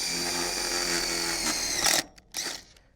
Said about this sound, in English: we're using our self-drilling, self-tapping screws to pre-drill a hole here